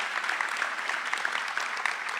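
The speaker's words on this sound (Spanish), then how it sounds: "Les pido un gran aplauso para Chamé, buen día, y para Sandra Franzen." An audience at a theater-spectator school talk applauds the two speakers, dense, even clapping that carries on steadily without any speech.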